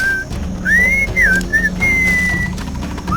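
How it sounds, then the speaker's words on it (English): Melodic whistling from the Sam & Max video game plays close and clear in several short gliding phrases followed by one long sustained note, with a soft musical backdrop underneath. "What is that enchanting whistling sound?"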